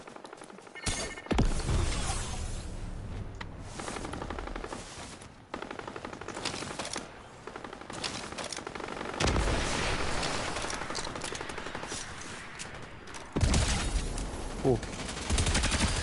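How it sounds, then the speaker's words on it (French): Gunfire in the video game Fortnite, Simpson Reload season, rapid automatic bursts and booming shots that run almost without a break, with players talking over the shooting. "là ça tire en plus."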